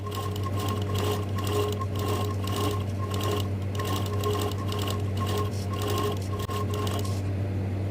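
A sewing machine stitches fabric in a fast, steady mechanical rhythm with a constant motor hum, running close and loud for several seconds before stopping abruptly near the end.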